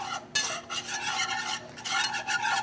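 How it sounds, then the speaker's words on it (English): Butter and flour roux is whisked in a pan, a steady, close scraping and stirring with a soft sizzle running continuously throughout, fairly quiet and without talk. "This goes fast, so you wanna whisk and keep it from burning."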